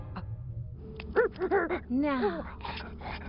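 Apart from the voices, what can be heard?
dog barking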